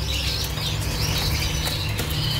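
A red white-winged competition canary sings in its cage with a steady, bright chirping warble that runs the whole time, close by and fairly loud over a constant low hum.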